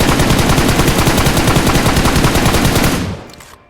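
Rapid automatic gunfire in a shooting video game, a fast steady stream of loud, close shots that stops abruptly near the end, leaving a short fading tail.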